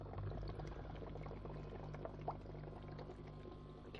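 Aquarium air pump bubbling water in a cheap DIY deep-water-culture hydroponics tub, a quiet continuous burbling fizz with faint splashes and a low steady hum, heard alone.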